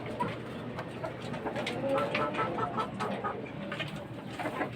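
Gamecock roosters kept in cages cluck and call in a yard, several birds at moderate distance over a busy outdoor background, with faint voices.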